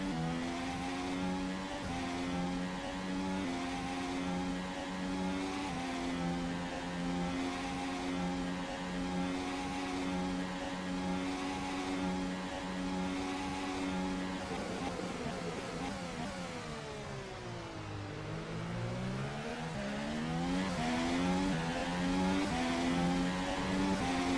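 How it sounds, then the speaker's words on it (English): A high-revving racing car engine in the rFactor 2 racing game whines steadily, pitch rising and falling through gear changes, with a deep dip and climb near the end, on the China circuit. "Let's go unfiltered here. This is the sound of Craig Baxter's machine"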